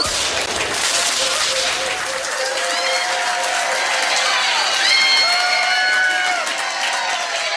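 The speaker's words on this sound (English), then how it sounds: "Give them a huge round of applause." Applause and cheering from a pub trivia quiz crowd, a loud mix of clapping and whoops with rising whistles or shouts layered on top, continuous throughout.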